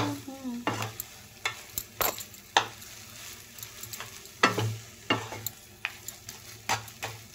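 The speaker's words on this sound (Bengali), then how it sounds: "আর এই যে দেখো আমি এটা কানকোটাকে ভাজবো।" Fish gills frying in a pan for a Bengali Sunday meal, with repeated sharp scraping and stirring strokes of a spatula over a steady close sizzle, no voices.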